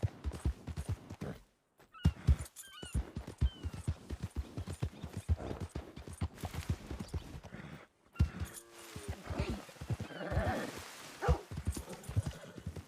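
A horse in Red Dead Redemption 2 clops along at a steady trot with quick, close hoofbeats, then breaks into a loud whinny partway through, and human speech is mixed in.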